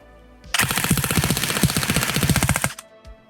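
Airsoft gun firing 0.2 gram BBs on full auto at about fifteen rounds per second, a loud, rapid rattling burst of just over two seconds, clear and close, with no talking.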